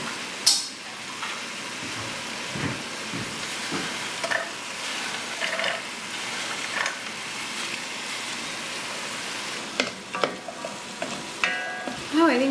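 Meat and onions fry in a pan with a steady, close sizzle while a utensil stirs and scrapes through them, adding occasional clinks and knocks; no one speaks.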